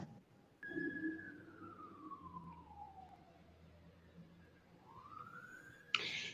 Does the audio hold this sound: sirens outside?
yes